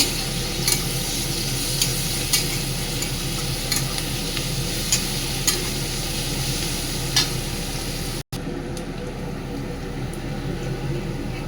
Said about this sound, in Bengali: পেঁয়াজটা একটু ভাজা পেঁয়াজটা ফুটতে লাল করবো